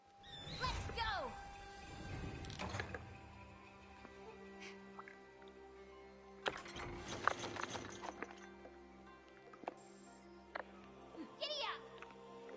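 A riding mount galloping in the video game Monster Hunter Rise: rhythmic clip-clop hoofbeats run under game music and chimes, with a short whinny and brief voiced calls near the start.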